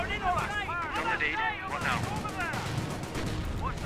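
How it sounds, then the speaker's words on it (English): Bren light machine guns firing in Company of Heroes, a steady stream of shots mixed into busy battle noise, heard under a voice talking throughout. "receiving a lot of damage there from the Bren guns"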